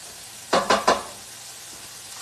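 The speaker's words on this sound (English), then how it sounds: "the prosciutto we saute a little bit" Prosciutto sautés in a pan for pasta with broccoli rabe and chickpeas: three quick, loud stirring scrapes over a soft background sizzle, then a quieter hiss.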